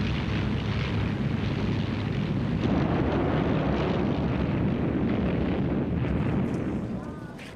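Luftwaffe aircraft attacking Malta in 1942, heard as a dense, rumbling roar of engines and blasts that continues without a break and then fades near the end.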